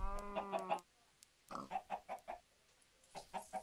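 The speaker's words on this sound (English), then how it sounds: "Something wrong with this chicken." Chickens cluck in Minecraft, short bursts of clucking in three clusters separated by brief silences, close and clear with no talk.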